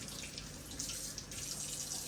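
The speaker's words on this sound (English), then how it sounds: "Put some salt in the water." Water runs from a kitchen tap in a holiday kitchen while food is being prepared, a soft steady hiss of flow, close but quiet, with no talk over it.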